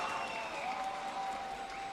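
A crowd of Brazilian fans at a London watch party for a Valorant esports match applauds and cheers steadily, sounding somewhat distant and fairly faint throughout.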